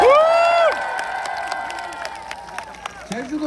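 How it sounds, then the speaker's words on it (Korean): A crowd at a presidential campaign rally in Jeju claps and cheers. A loud voice opens the stretch, then scattered, fading hand claps and shouts follow at moderate distance. "격려박수 부탁드립니다"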